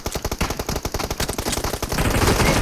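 Rapid automatic gunfire in the mobile battle-royale game PUBG Mobile, a fast run of sharp close shots for about two seconds that then blurs into a dense, continuous roar of fire.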